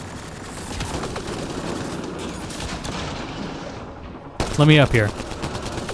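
Gunfire rattles in Mass Effect Andromeda, with dense bursts of shots running under a talking voice, then a brief pause before a close spoken line.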